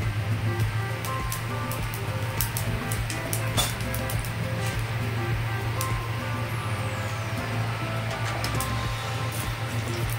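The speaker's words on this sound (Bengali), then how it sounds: "কালো জিরেটা আমি একটু ভেজে নিচ্ছি, নাড়াচাড়া করে নিচ্ছি।" Black cumin seeds fry in hot mustard oil with a continuous broadband hiss, scattered crackles and small clinks, over a low steady hum.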